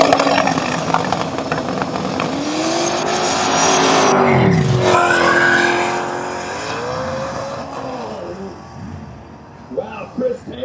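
Drag race cars roar down the strip and throttle up at the finish, a loud engine wail that rises and sweeps past, then fades as a commentator talks.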